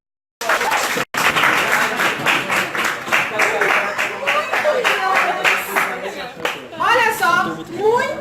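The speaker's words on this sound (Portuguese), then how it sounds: "Palmas para ele" Classroom audience clapping for a student during a literature interpretation lesson, dense close hand claps throughout, with some voices and laughter rising near the end.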